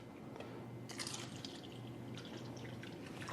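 Tap water pours steadily over a tea bag, a soft continuous trickle and splash with a few brighter drips, faint and close, with no one talking.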